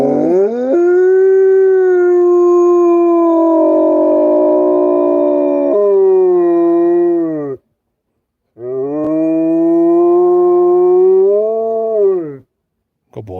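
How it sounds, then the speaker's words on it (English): A dog howls in long, loud, sustained wavering notes close by, two extended howls separated by a short silence, ending with a brief yelp. "Sometimes it's easier to get him to howl than others"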